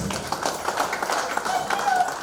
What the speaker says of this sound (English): Let us give a round of applause for this.